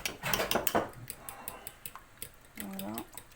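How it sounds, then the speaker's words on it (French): Lemon is mixed into eggs in a bowl with quick clinking utensil taps against the side. A short voice is heard near the end. "je prends mon citron que je vais mélanger avec mes œufs"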